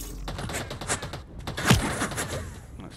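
Rapid gunfire from the video game Eve Vanguard, a dense burst of shots with one heavier thump near the middle, continuous over a busy game soundscape.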